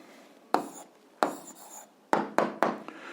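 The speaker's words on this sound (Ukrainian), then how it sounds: "записуємо відповідь" A pen writes an answer on paper for an algebra exercise, heard as a few short scratchy strokes in separate bursts, close and clear against a quiet background.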